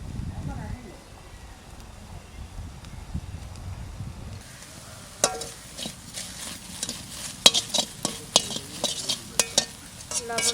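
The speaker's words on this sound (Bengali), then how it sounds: "এবার নিম পাতা কটা কড়াইতে দিয়ে একটু নেড়ে ছেড়ে নেবো ভালো করে" Neem leaves tossed in a wok, starting quiet and then breaking into scraping and clinking stirring strokes against the metal with a light sizzle, under someone talking.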